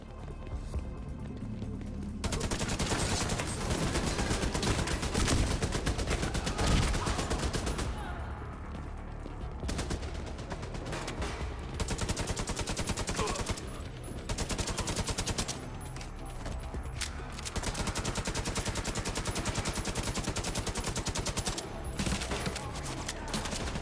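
Turret gunfire in the Warlords of New York game at Pathway Park: dense, loud bursts of automatic fire run almost the whole time, broken by a few brief lulls.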